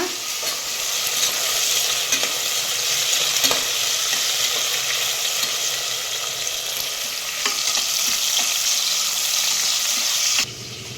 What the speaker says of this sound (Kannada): ಚೆನ್ನಾಗಿ ಮಿಕ್ಸ್ ಮಾಡ್ಕೊಂಬಿಡೋಣ